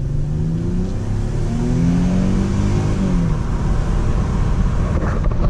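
An older Mercedes car engine revved hard up toward the red line, a loud, close, continuous roar that rises in pitch, holds high, then eases off slightly, with no voices.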